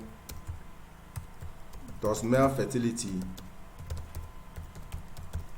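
Rapid clicking keystrokes on a computer keyboard, steady and close, run through the whole stretch while someone speaks over the middle part.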